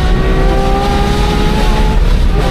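A McLaren 765LT sports car engine revs hard and close, a loud sustained high-pitched wail with rising tonal harmonics throughout, no talk over it.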